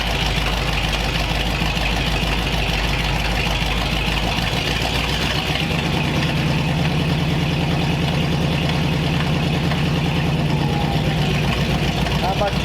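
The engine of a 1929 Ford Roadster pickup fitted with scrap-built exhaust baffles runs loud and steady with a rough, throbbing idle that rises only slightly, and a voice talks over it.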